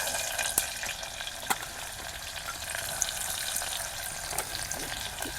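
Steady, crackling sizzle of onions frying in a hot pan, with a few sharper pops and spatters over the continuous hiss.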